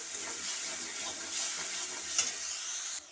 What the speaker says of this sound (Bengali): নুন দিয়ে এটাকে মশলাটাকে ভালো করে আমি কষাবো।